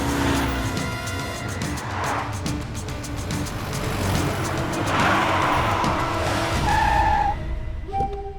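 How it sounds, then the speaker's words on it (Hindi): A car skids and its tires squeal on a road during an action film scene, a sustained screech rising and fading over several seconds before the vehicle halts, with engine noise underneath and no talking. "बीच रास्ते में गाड़ी क्यों रोक दी तूने?"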